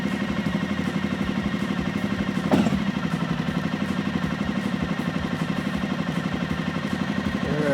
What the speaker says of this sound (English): And bike will fire it up right here from the start button.